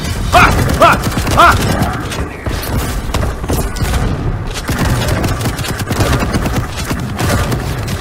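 Constant loud gunfire and explosions fill a fast arena shooter match in Quake Champions, with bursts of rapid weapon fire, booms and game effects running without a break.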